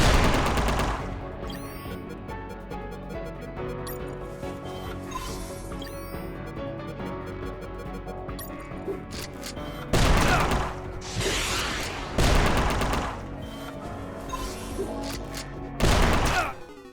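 Rapid gunfire from the video game Unmetal, dense bursts of shots running almost continuously with louder impact blasts near the end, loud and close with game sound effects and no talking.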